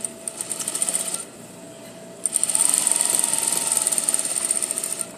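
A sewing machine stitches a half-inch seam with a back tack, a fast steady rattling hum up close, pausing briefly before resuming at a stronger, even pace.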